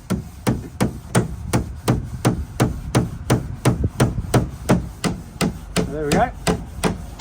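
Steady, regular hammer taps ring out during restoration work on an antique bureau, about three blows a second, close and crisp. Someone speaks briefly near the end.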